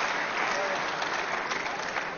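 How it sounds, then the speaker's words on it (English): Warm applause from the arena crowd at an ABA final boxing match, a steady, dense wash of clapping that holds at an even loudness throughout, with no distinct voices. "Warm applause from around the arena this evening."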